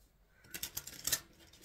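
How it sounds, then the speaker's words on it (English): Tarot cards being shuffled in a quiet room, a short soft burst of riffling and snapping card edges lasting about a second, with no voices. "So I am shuffling for the concluding message for our Aquarius"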